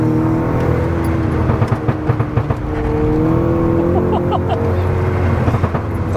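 A stage 3 tuned MK6 Golf GTI engine and exhaust accelerate from inside the car, with a loud, steady rising drone and high-pitched tone that runs throughout and a few brief voice sounds underneath.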